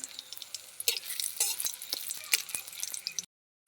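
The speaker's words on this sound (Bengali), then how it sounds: "তেলের মধ্যে আরেকটু তেল দিয়ে দেব ফোড়নও দিয়ে দেব তেজপাতা দুটো দুটো দারচিনি আর দুটো এলাচ" Bay leaves, cinnamon sticks and cardamom pods frying in hot oil give a steady crackling sizzle with sharp pops and stirring scrapes, close and moderately loud, cutting off abruptly at the end.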